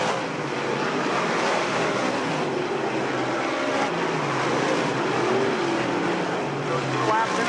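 Dirt-track race cars roar continuously around a speedway in a side-by-side battle for the lead, a dense, steady wash of engine noise with crowd ambience and a faint announcer voice under it.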